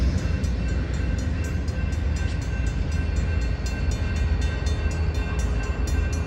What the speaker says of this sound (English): Amtrak Cascades number 505 is less than a half mile from its station stop at Albany